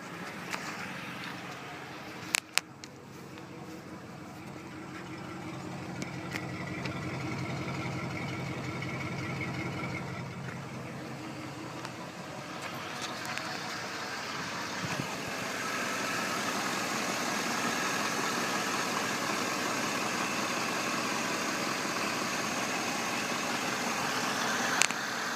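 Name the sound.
GM SUV 5.3 V8 LS engine idling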